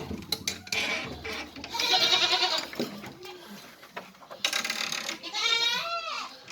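Several goats bleat loudly nearby, long wavering cries overlapping one another with brief gaps between.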